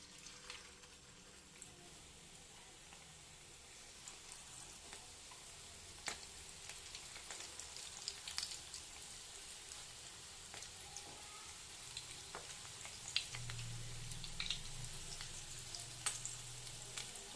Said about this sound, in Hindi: अब अपन चिकन लॉलीपॉप्स को फ्राई कर लेंगे